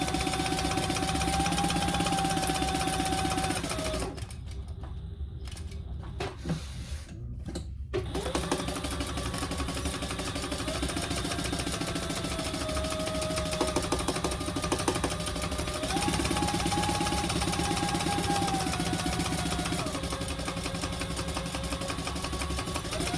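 A sewing machine basting fabric pieces wrong sides together for a retro-style sling, running in a fast steady stitching whir, pausing briefly for a few seconds midway, then stitching on at length.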